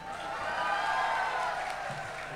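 An audience at a Lalon concert during a university business alumni reunion applauds the teachers, a steady, dense wash of clapping and crowd noise that holds at an even level throughout.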